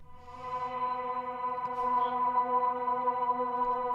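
Sustained, airy choir-like Mellotron tones from a backward choir preset, with a soft swelling attack, holding steady harmonics like a reversed vocal pad.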